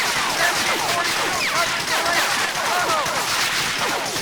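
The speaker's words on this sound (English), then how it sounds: "So wait for the MG42 to start." MG42 machine gun fire in Medal of Honor: Allied Assault during the Omaha Beach assault, a dense, continuous barrage of rapid shots and battlefield noise filling the whole stretch at high volume.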